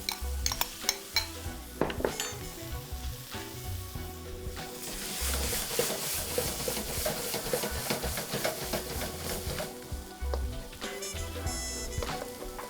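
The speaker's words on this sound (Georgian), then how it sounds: "სანამ ჯინჯერი, ხახვი და ნიორი იბრაწება სუნელებში" Ginger, onion and garlic fry in a pan with turmeric and red chilli, giving a steady close sizzle broken by the clatter and scrape of stirring and metal utensils.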